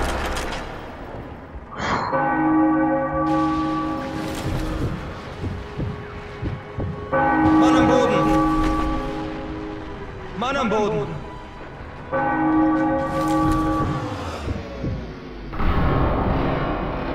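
Church bell ringing in the video game Sniper Elite V2, with sustained resonant tolls at about 2, 7 and 12 seconds, each decaying over several seconds, heard loud against game noise and occasional talk.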